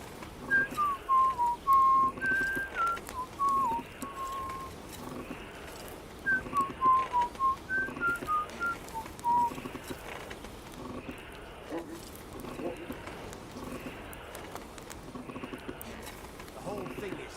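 A blacksmith whistles a wandering tune at the forge in the video game Kingdom Come Deliverance 2, clear melodic phrases in two stretches, with steady rhythmic working sounds and talk beneath.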